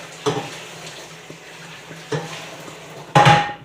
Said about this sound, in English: We're going to rinse this out a little bit because you got some egg residue.